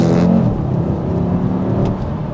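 A CUPRA Formentor VZ5 with its five-cylinder engine revs hard and close, a dense, loud, throbbing roar that holds steady throughout.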